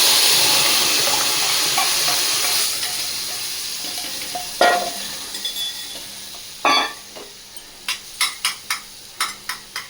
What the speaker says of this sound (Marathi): मसूरची आमटी फोडणीला देते.